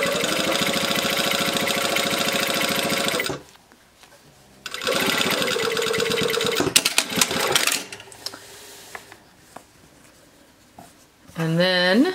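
A sewing machine stitches a jeans seam at 3/8 inch in loud, steady runs of rapid needle chatter, stopping twice for quiet pauses, with a voice at the end.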